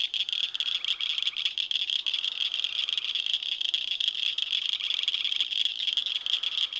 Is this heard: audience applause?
no